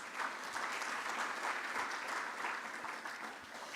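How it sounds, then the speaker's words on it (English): A conference audience at an energy event in Ghana applauds a speaker, a continuous, even patter of many hands clapping, heard at a distance and fairly faint. "I think he deserves another applause."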